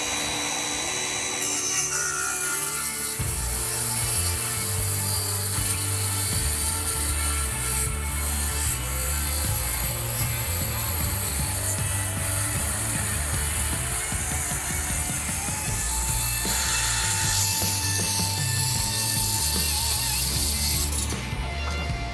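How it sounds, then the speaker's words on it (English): A standard 7 1/4 inch circular saw cuts through the half-inch flange of a steel beam, a loud continuous high whine and grinding screech running for about twenty seconds before spinning down. "That's a 1/2 inch flange on this beam we're going to cut with a standard circular saw."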